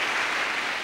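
A church congregation applauds in a short burst of dense, even clapping, steady and fairly loud, with no speech over it.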